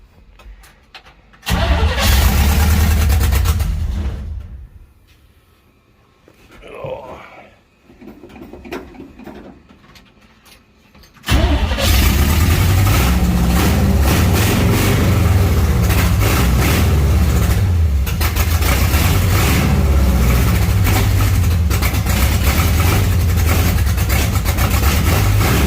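A 1972 GMC truck engine, known to be cold-blooded, cranks and catches, runs briefly, falters into quieter uneven sputtering, then roars back and holds a loud, steady rough idle close by.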